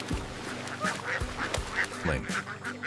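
A large flock of farmed egg-laying ducks quacks repeatedly on the water, calls overlapping in bursts at close range with a steady background clamor of the crowd.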